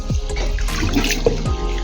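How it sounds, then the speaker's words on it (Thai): Rinse water poured off brown rice into a sink: a steady, close splashing pour with gurgles and drips, continuous throughout and with no talking. "เดี๋ยวเทน้ำทิ้งนะครับ"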